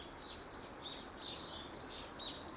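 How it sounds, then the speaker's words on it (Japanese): Small birds chirp outdoors in short, high, repeated tweets, fairly faint over a steady background hiss, with no talking. "鳥もさえずってます。"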